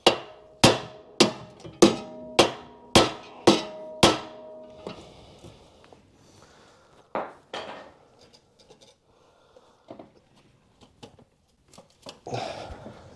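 A hammer strikes a Honda Civic steering knuckle seven times in a steady, ringing metallic rhythm, followed by quieter clanks and scraping of tools.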